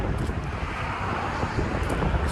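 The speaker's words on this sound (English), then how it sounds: "and it's windy" Steady wind blows hard across the microphone outdoors along the Overseas Heritage Trail, a continuous close rushing roar with no pauses.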